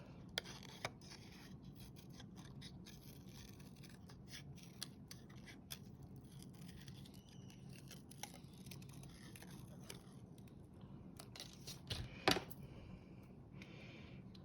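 Quiet, close snipping and rustling of paper being cut with scissors, with scattered small clicks and one brief sharper burst near the end.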